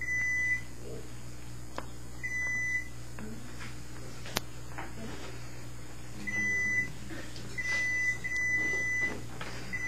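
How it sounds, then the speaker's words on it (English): An electronic demo rig in a classroom gives short, repeated high beeps in spaced bursts. Each burst holds a few steady tones and sits under a constant low hum. There are faint room noises in the background. "Pay no attention to the beep sounds over there."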